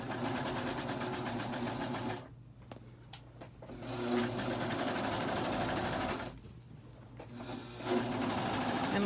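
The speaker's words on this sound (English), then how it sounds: "I'm just using a serger because it's quicker." A serger stitches a fabric pillow cover in fast, steady mechanical bursts that stop twice briefly and then resume, running close and clear.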